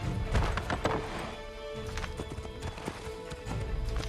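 In Assassin's Creed III, a horse gallops with rapid, loud clip-clopping hoofbeats and a brief whinny amid in-game ambience.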